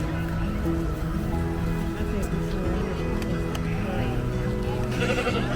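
Sheep bleat intermittently amid the crowd noise of sheep judging at the 100th Kent County Show, with people talking throughout over a steady, busy outdoor background.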